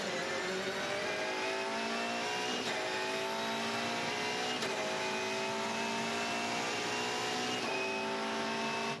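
Volvo S60 V8 Supercar racing through turn 10 at the Australian Grand Prix, its V8 engine roaring steadily with rising revs and brief gear-change dips, heard continuously and at a distance.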